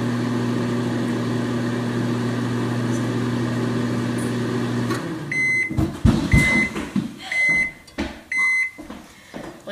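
A microwave oven heating nachos hums steadily for several seconds, then stops and gives a series of short, evenly spaced beeps amid clattering handling noises.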